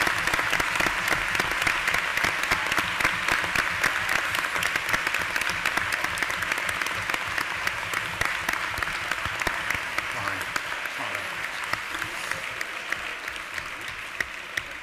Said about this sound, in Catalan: els hi donem un aplaudiment a tots els personals